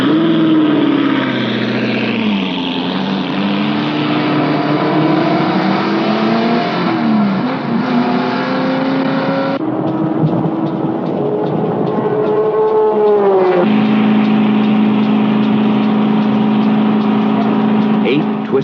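A Ford-built sports racing car screams past on a road racing circuit, its loud engine note climbing and dropping through gear changes with a sudden shift in tone midway, heard continuously throughout.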